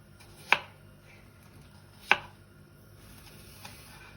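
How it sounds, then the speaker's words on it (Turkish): Two sharp knife chops strike a board about a second and a half apart while potatoes are cut into thin matchsticks, with a fainter tap near the end over quiet room tone. "Bu yüzden ilk başta patatesleri kesmekle başlamayı tercih ettim"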